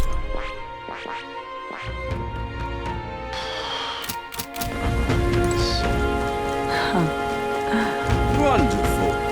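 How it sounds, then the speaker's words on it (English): Steady rain in the video game Metaphor: ReFantazio, a continuous hiss that grows heavier partway through, mixed with game music and sharp effect hits, with speech-like game sounds on top. "This bloody rain."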